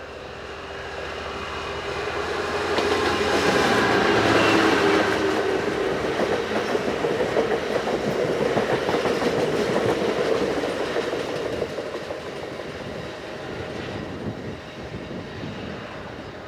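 A freight train of 100-ton fuel tank wagons hauled by class 66 locomotive 66206 rumbles past on the Lindsey to Neville Hill run, a loud, sustained roar of engine and rolling wagons that swells, holds, then slowly fades.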